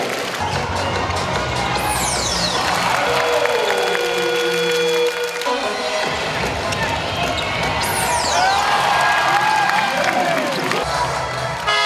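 A basketball arena crowd at a KBL cup game applauds and cheers while a player is introduced. Broadband crowd noise with squeaks and whistle-like sweeps runs under nearby talk throughout.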